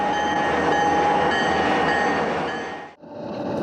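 A Conrail freight train rolls through the rail yard at Allentown, a loud, steady rumble with squealing wheel tones that thins out abruptly near the end as the cars pass.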